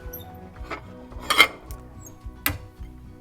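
Minced garlic slid off a knife onto a small plate in a kitchen, giving a few light clinks and taps of metal on ceramic, two sharper knocks standing out among quiet handling noise.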